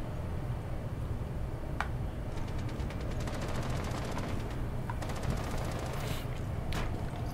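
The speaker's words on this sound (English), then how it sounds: "I can hear some shots" Gunfire in the tactical shooter game Rainbow Six Siege: a few sharp distant shots and faint rattling bursts stand out against a steady, noisy game background.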